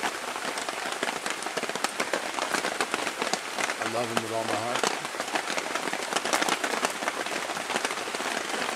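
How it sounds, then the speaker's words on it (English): Steady rain pours down outdoors beside a large wood pile, a dense continuous hiss of drops on surfaces; someone speaks briefly over it. "as you can tell, it's raining"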